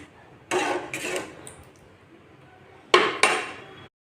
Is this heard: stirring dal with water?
yes